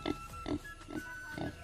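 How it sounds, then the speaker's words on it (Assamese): A single tethered young pig grunts in a village homestead, four short low grunts spaced in an uneven rhythm, close and fairly quiet with no talk over them. "এইটো আমাৰ এটাই গাহৰি"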